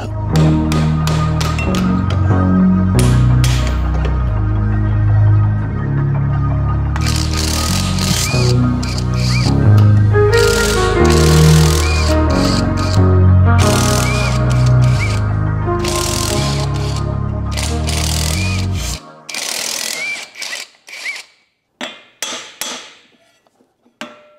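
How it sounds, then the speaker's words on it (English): A pneumatic impact wrench fitted with a chrome socket hammers loudly in rapid bursts while removing bolts on a Nissan GQ Patrol 4x4, repeated close rattling runs that end in a few short, sharp blips. "You really shouldn't use chrome sockets on a rattle gun."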